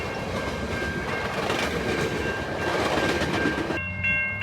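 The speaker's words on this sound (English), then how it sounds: "That's a long train." A long train rolls steadily past close by, a dense continuous rumble with clattering wheels and a tonal hum, loud throughout before cutting off abruptly near the end.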